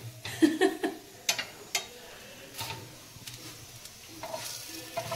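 Hot fish oil sizzles and spits in a pan while cooking, with irregular crackling pops and stirring clatter close by, loudest at the start and tapering into a steady low fry, with no talk.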